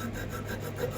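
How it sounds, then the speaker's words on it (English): Steady close rasping of a file worked in a rounded motion against an antler, continuous scraping strokes with no voices. "I'm just filing it real quick in a rounded motion because I want to keep it round looking"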